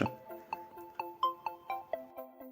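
A phone chimes with an incoming message notification: a short melodic tone sequence of about eight evenly spaced bright notes, close and clear with no talking.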